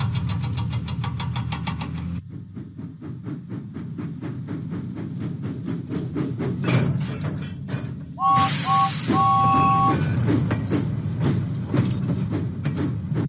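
A Thomas and Friends video game steam engine chuffs steadily with rhythmic puffs and mechanical rumble, then shrill whistle-like tones sound midway as the locomotive pulls out of the docks. The sound is continuous and close, with no speech.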